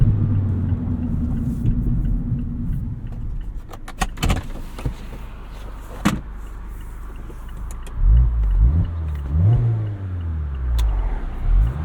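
Wind and road noise fill the cabin of a 2024 Mazda MX-5 Miata Club driven with its soft top up: a constant low rumble with scattered clicks and knocks. A rising engine tone swells near the end.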